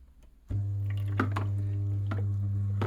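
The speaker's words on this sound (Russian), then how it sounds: "у нас вода бежит, но помпа все равно как-то она задавленная" A steady low espresso machine pump hum starts abruptly and drones on, sounding strained, with water trickling and dripping over it in a small, close space.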